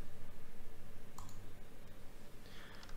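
Sharp mouse clicks at a computer while working in Blender, a few isolated taps spread over a steady background hum, with no voices.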